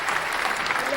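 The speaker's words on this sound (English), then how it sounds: "Round of applause for Laura" A short, dense burst of audience applause for Laura, even and sustained throughout, with a faint voice over it.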